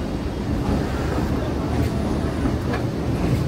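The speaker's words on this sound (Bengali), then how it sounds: "আর আমাদের ট্রেন ছেড়ে দিল শিয়ালদার থেকে" A Namkhana local train pulls out of platform 18 at Sealdah station, giving a steady, close rumble of wheels and carriages that holds at an even level throughout with no clear breaks.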